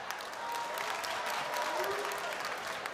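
A comedy show audience claps in a continuous, moderately loud wash of applause, with scattered shouts and voices mixed into the crowd noise.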